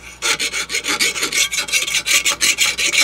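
A Work Sharp belt sander grinds the bevel of a Ryobi lawnmower blade, a loud, close, rasping scrape that pulses in steady, rapid strokes as the steel is passed against the belt.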